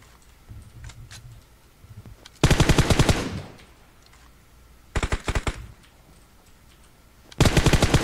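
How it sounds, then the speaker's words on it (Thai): Rapid automatic gunfire in the mobile battle-royale game PUBG Mobile comes in three loud, close bursts of quick shots, with quieter clicks and small sounds between them and no talk. "โอ้ใครยิงเราวะ"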